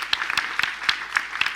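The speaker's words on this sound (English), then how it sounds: "Let's give them a big round of applause." Applause from a conference audience at an HR tech summit in Dubai, a thin, moderately faint patter of claps with a few sharper individual hits standing out over a short stretch.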